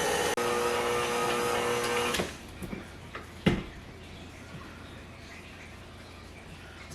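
A stand mixer strains as it kneads thick dough, a steady whining motor hum for about two seconds before it cuts out, followed by a few faint clatters and a quiet room.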